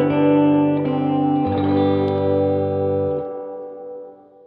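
Loud electric guitar chords sustain through heavy reverb and effects from a Gibson Falcon amp, changing once or twice before a long, washy decay fades out.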